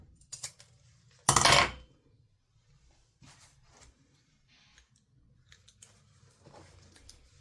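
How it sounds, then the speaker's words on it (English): Scissors snip through zipper ends for a sewing pouch, giving sharp metallic clicks and one loud burst of rustling clatter amid quiet handling noises. "you want to clip the ends of your zippers off"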